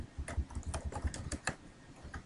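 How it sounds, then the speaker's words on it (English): Fingers type on a computer keyboard in a quick, uneven run of close, crisp key clicks with no talking. "I'm going to type in English 1 and click enter, or hit enter on my keyboard"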